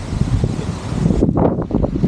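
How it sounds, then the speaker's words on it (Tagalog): Strong wind buffets the microphone with a steady low roar, easing slightly toward the end as gusts rise and fall. "Hangin-hangin guys."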